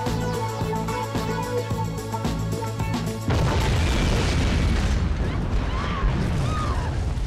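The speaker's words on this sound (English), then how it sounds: "Oh, explosions." Explosions from the video game Syphon Filter 2 burst in as a loud, dense roar that takes over from steady pounding club music, sustained crashing noise filling the last few seconds.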